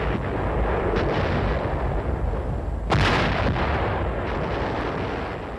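Heavy artillery fires in a barrage, a continuous booming rumble with one sharp, louder blast standing out midway, the roar fading slightly toward the end; no voices.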